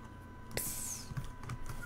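Keys on a computer keyboard are tapped in a short, irregular burst of close, light clicks, with one sharper strike near the start.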